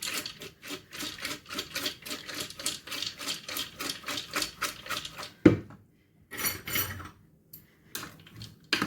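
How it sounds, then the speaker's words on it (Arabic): A utensil scrapes and knocks steadily against a pan while ingredients for a meatless Moroccan lbat dish are stirred, a fast, even rhythm of close clatters that stops and then resumes in short bursts. "نحرك المقادير ديالي مزيان كما كتشوفوا"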